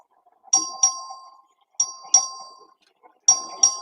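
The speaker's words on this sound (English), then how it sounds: "This is a record vote. The clerk will ring the bell." A clerk's bell calls a record vote in the Texas House chamber, ringing in three pairs of clear, bright dings, each pair spaced well apart with quiet between, close and fairly loud.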